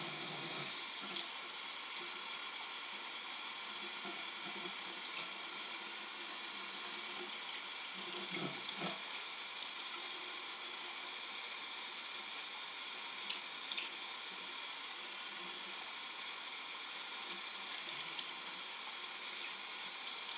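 Tap water runs steadily into a sink or tub while a newborn baby is washed, a faint continuous hiss with occasional small splashes and knocks, no speech.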